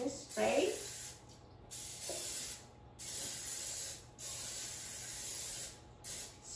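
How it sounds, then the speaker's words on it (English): Several short bursts of cooking spray hiss onto a cake pan, close and fairly loud, separated by brief pauses, with a faint voice early on. "So I'm just going to use cooking spray."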